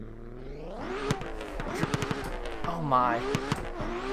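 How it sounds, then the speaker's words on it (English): A loud drift car in Assetto Corsa revs hard with rising and falling engine pitch and sharp backfire-like pops and limiter bursts, close and aggressive, with a brief spoken exclamation over it. "This car is definitely very loud."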